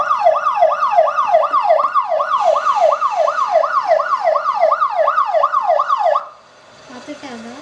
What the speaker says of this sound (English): He'll get to know if I turn on this siren here.